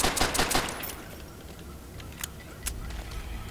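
Gunfire in Call of Duty: World at War, a few muffled shots in a cluster at the start and isolated cracks later, sounding far off beneath a low game ambience.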